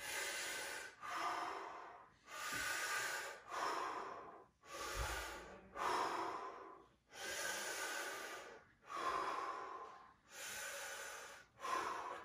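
Slow, deep breaths come in long, even cycles during a fascia exercise, each inhale and exhale loud and close with soft pauses between, about six breaths in all.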